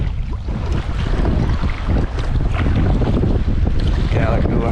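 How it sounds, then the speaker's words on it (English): Strong wind buffets the microphone in a steady roar, with water and packraft noise underneath near Koh Nok, Thailand, and no clear talking. "it's a bit windy on this side"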